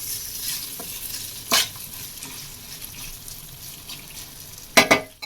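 Rice fries in a pan on a low flame with a soft, constant sizzle, broken by occasional scraping stirs and a couple of louder clanks of the spoon against the pan near the end.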